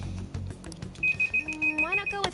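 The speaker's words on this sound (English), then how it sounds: "Phone." A phone rings in Persona 5 Royal, a bright repeating electronic ring with a rising warble, laid over game music and background talk.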